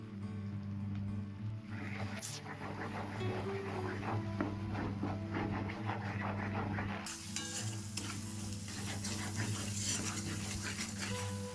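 Bitter gourd with spices is stirred in a pan, a soft sizzle under repeated scraping and scooping of a spatula, fairly quiet and close with no one speaking.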